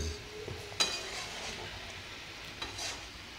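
Amla (Indian gooseberry) pickle with salt, turmeric and mustard oil being stirred in a pan, soft scraping and shuffling with a couple of sharp utensil clicks over a faint sizzle, close and quiet, no talk.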